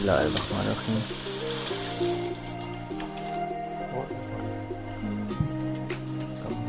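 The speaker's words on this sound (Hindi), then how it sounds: "अब इसमें हम पानी ऐड कर देंगे।" Water poured into spices frying in a pan for a mixed potato, pea, carrot and cauliflower sabzi gives a sharp sizzling burst at the start, then a softer hiss continues under steady background music.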